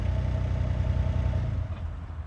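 A low, steady diesel rumble from an excavator engine idling at low revs, continuous and near with a slight clatter, fading a little toward the end.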